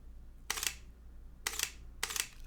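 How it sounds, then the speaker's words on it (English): A Sony Alpha mirrorless camera, an A7II or A6000, fires its shutter three times in a quiet room, each a crisp, close mechanical click-clack with a gap between shots. "in terms of shutter sound, let me go ahead and give you that taste"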